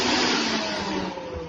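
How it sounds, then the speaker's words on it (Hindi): A kitchen mixer grinder runs at home, a loud steady motor whine with a dense grinding roar, continuous and close with no voices. "मिक्सी चलाओ।"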